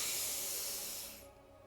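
A deep breath drawn in during a breathing exercise makes a loud, airy hiss that holds steady, then tapers off near the end, heard alone.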